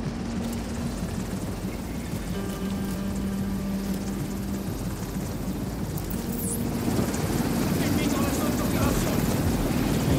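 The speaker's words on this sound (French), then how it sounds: "Un hélicoptère qui les dépose." A helicopter's steady rotor drone in The Division 2 fills the background amid game noise, with a brief whooshing sweep partway through.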